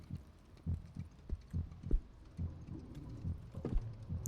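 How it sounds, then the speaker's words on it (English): Heartbeat sound effect in the horror video game Song of Horror, a low, muffled double-thump pulse repeating steadily at moderate volume over a faint ambient hum. "No heartbeats."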